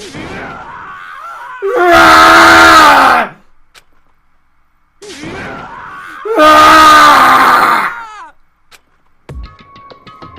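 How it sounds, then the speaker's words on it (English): Sad anguished screams from a character in the video game Danganronpa: Trigger Happy Havoc, two long loud wailing cries each preceded by softer whimpering moans, ending with a short electronic sound effect. "As Taka's sad screams invaded our skulls"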